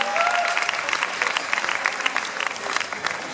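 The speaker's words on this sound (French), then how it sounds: "On peut les applaudir bien fort." Brief burst of lively audience applause for arriving performers at an event, dense clapping with a faint tone in the background.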